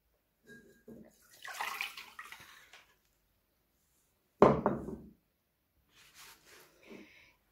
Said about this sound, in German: Jetzt werde ich das einfach nur einmal dann abgießen.